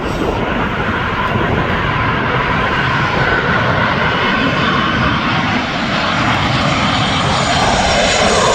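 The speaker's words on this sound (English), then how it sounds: "we're going to have a Ryanair 737." A Ryanair Boeing 737 comes in to land on a windy day at Manchester Airport, its loud, steady jet engine roar filling the whole stretch with gusty wind noise mixed in.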